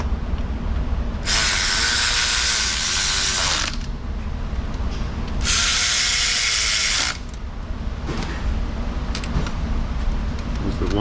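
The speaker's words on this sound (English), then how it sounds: "we'll do that other long bolt." Ratchet clicking in two bursts tightening a long bolt on a Subaru Forester 2.5 timing cover, close and crisp with a pause between runs over faint background hum.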